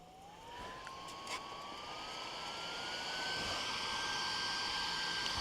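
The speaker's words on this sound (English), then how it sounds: "I'll plug the fan in." A small battery-powered fan on a LOFI ultralight titanium backpacking woodstove spins up, its thin, steady whine rising in pitch as the speed climbs, alongside a soft, even airy rush close by.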